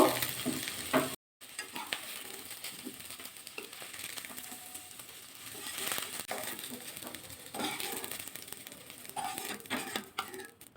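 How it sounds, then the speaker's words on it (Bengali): Potato and okra fry in a pan while being stirred, with an ongoing crackling sizzle and scraping stir strokes close by, briefly cut off near the start. "নাড়াচাড়া করে আলু আর ভেন্ডি ভাজা হয়ে গেছে"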